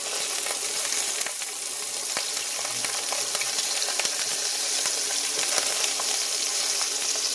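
A sausage patty sizzles steadily in a pan on an induction cooktop, a dense, close, continuous frying hiss with scattered small pops and crackles.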